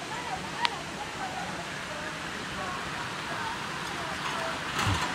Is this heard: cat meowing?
no